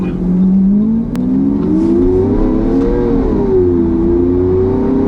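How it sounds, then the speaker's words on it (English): A Lamborghini Aventador engine warms up with a loud, close, steady rumble that swells into a gentle rev and settles back, sustained throughout with no talking. "let this car warm up a little bit, then we'll try it out"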